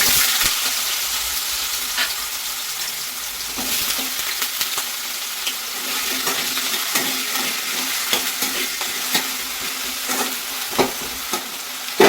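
Potatoes fry in a pan of hot oil with cumin seeds, making a steady, close, loud sizzle broken by frequent scraping stirs and spatters throughout.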